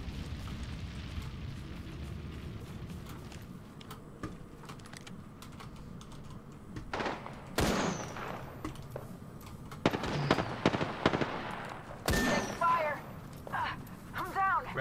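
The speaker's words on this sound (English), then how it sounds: "I'm getting shot at." Gunfire in the battle-royale shooter Apex Legends, with sharp bursts of shots around the middle and end of the span over steady game noise and clicky key taps, while a voice talks throughout.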